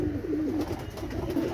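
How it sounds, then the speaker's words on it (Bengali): A pair of Oman teddy pigeons coo in soft, low, rolling phrases, close by, over faint background noise. "এক জোড়া ওমান টেডি কবুতর"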